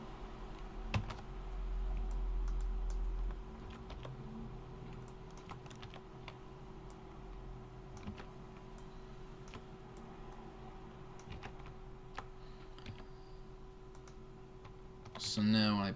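Scattered key presses and clicks on a computer keyboard, quiet and irregular, over a steady low hum, with a louder burst near the end.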